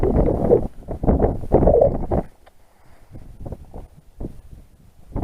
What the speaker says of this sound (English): Cold old wind that. And the wind's up as well.